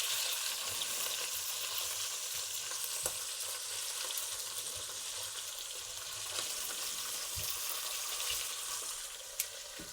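Clumps of bolognese meat browning in a hot pan, nudged around with kitchen tongs: a steady, dense sizzle throughout with a few faint clicks and one sharper tap near the end.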